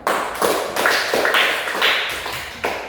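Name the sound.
classroom applause for a group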